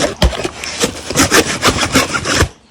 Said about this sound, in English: Hacksaw to the rescue.